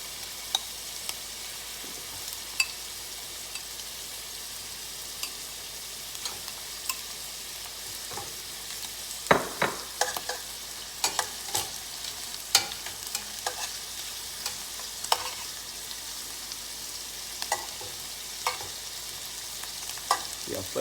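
Shrimp sizzle in a frying pan for a Portuguese seafood stew, giving a soft, continuous crackling hiss with scattered pops and a few louder clatters of stirring and flipping.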